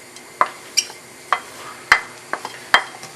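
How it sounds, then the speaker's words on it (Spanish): Long onion sautéing on a stove for tamales, with a steady low sizzle and sharp intermittent scrapes and clacks of a stirring utensil against the pan, close and without talk. "a sofreír un poquito antes de agregar las otras cebollas"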